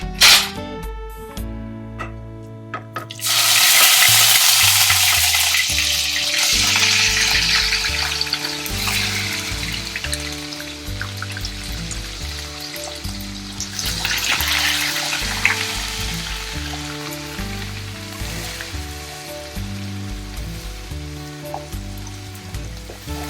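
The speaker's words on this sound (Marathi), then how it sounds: "मी 4 चमचे तेल टाकलेले अगोदर गरम करायला ठेवलेले. तेल बऱ्यापैकी गरम झालेलं आहे आणि आता आपण मसाला भाजायला घेऊया" Masala for Kolhapur-style spicy misal roasts in four spoons of hot oil in a pan, giving a loud burst of sizzling that then settles into a softer crackle beneath steady background music.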